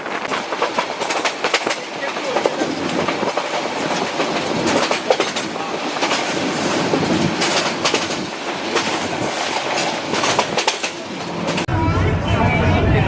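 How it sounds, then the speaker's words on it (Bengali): Tista Express train gathering speed on the rails, loud rhythmic clickety-clack with brief wheel squeals, close and continuous, in heavy rain. "ট্রেন কিন্তু আরও গতি বাড়াতে শুরু করে দিয়েছে"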